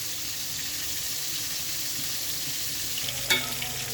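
Bhetki fish pieces frying in oil in a pan: a loud, unbroken close sizzle with a single metallic clank near the end.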